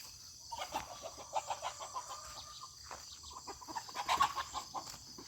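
Chickens cluck softly in short bursts on a rural night outing, faint and somewhat distant, over a steady hum of insects and night ambience.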